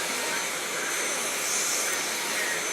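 A household vacuum cleaner runs steadily at close range, a constant broadband whoosh with no pauses across the whole stretch, carrying on at full, even loudness.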